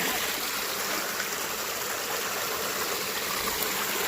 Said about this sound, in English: where that root system of that tree's made that cool waterfalls right there